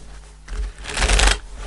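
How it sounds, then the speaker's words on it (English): Tarot cards being shuffled by hand, a brief close riffling rustle that swells and fades over a couple of seconds. "I'm going to do one more shuffle."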